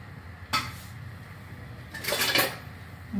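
Metal lid set over a biryani pot: two short clanks and scrapes of metal on metal, the second louder and longer, close by against a quiet kitchen background.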